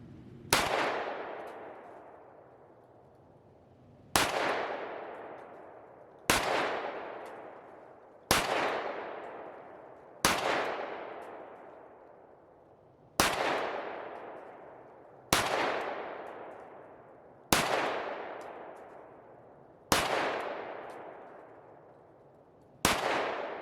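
Pistol fitted with a green laser sight, nine sharp gunshots fired one at a time a couple of seconds apart, each a loud crack followed by a long echoing decay outdoors.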